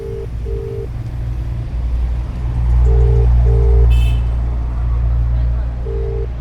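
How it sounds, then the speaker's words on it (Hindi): Repeated electronic phone tones beep in short pairs over a low rumbling background hum, like a call being placed and ringing. "मैं अभी बैंक स्टाफ को फ़ोन लगा रहा हूँ"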